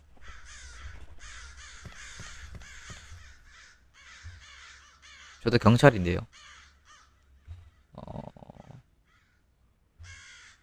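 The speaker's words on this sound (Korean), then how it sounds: "그나저나 까마귀는 왜 이렇게 우는 거야?" Crows in a detective video game give repeated harsh caws in rapid runs throughout. The calls are moderately loud, and brief voiced lines from the game are heard between them.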